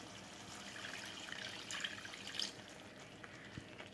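A small amount of water is poured into a thin, simmering gravy in a home kitchen, giving a soft, brief splashing trickle at low volume with faint drips, no voices.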